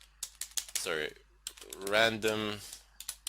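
Quick, crisp keystrokes tap on a computer keyboard running Kali Linux, arriving in short irregular bursts around someone speaking in the middle.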